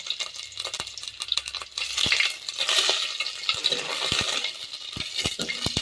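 Grated ginger hits hot oil with popped mustard seeds and fenugreek in a pan, giving a steady close sizzle with small scraping and stirring clicks throughout.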